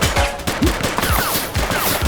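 A rapid run of loud gunshots from a woman firing in the police video game The Precinct, close and dense, with a string of sharp reports over about two seconds.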